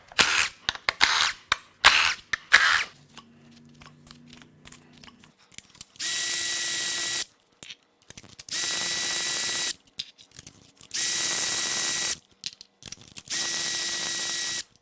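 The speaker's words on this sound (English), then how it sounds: "The next first thing I'd like to do is pull the coils so we can pull the plugs and take a look." Ignition coils and spark plugs being removed from a failed 2016 Toyota Prius engine with a power ratchet: several sustained buzzing whirs of about a second each, separated by quiet handling clicks and metal taps, with no talking.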